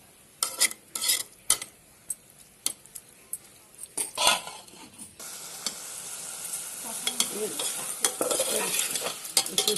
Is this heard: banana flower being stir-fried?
yes